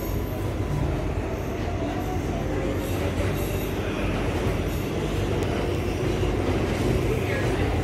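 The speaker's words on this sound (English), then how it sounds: "Alright, we're on the 7 train." A New York subway 7 train riding toward Flushing gives a loud, steady rumble of wheels and carriage with occasional high squeals from the rails, continuous throughout.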